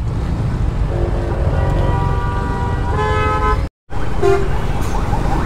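Dense road traffic in a heavy jam on a Bangladeshi highway, recorded from a GPX Demon motorbike: steady engine and road rumble with repeated horn toots from nearby vehicles, a brief dropout, then more honking.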